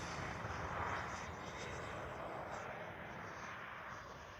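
An Arrows RC F-15 radio-controlled model jet with twin 64mm ducted fans flies a pass with its gear up, making a continuous whooshing roar that stays loud and even throughout.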